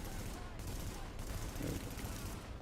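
Sustained gunfire in The Division video game, a dense, continuous rattle of shots with background noise and a talking voice layered over it.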